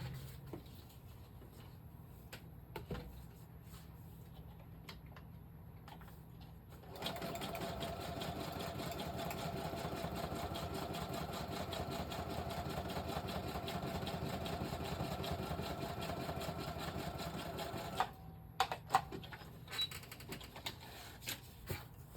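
A sewing machine stitches notepads made from junk mail, running steadily and loud for about eleven seconds, with quieter handling clicks and thumps before and after.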